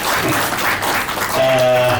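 An audience claps at a film song launch press meet, a dense burst of applause filling the room, with a voice briefly audible over it.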